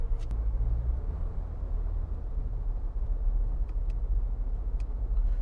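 Continuous low engine rumble and road noise from inside a Mahindra Thar Roxx driving at about 60 km/h, steady throughout with a few faint ticks.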